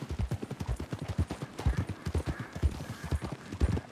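A horse's hooves clip-clop in a quick, even trot through the game Red Dead Redemption 2, dull thuds close by with faint ambient texture and no talk over them.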